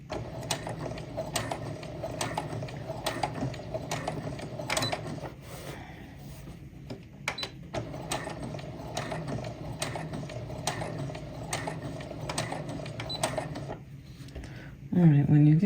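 A sewing machine stitches fabric for an apron, running in steady rhythmic bursts of close mechanical clatter with brief pauses between runs, ending in a louder thump.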